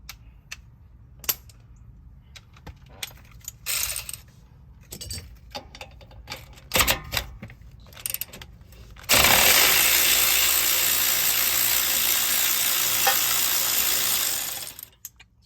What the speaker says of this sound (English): This one I'm going to use electric ratchet as well, and it is an 18 millimeter.